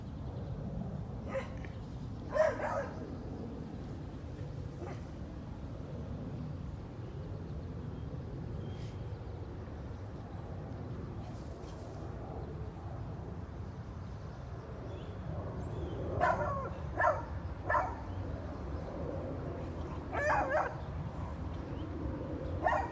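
Beagles bark and yip in short scattered bursts, several clustered near the end, over a low steady background rumble; moderately distant.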